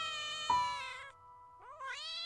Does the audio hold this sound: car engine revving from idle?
no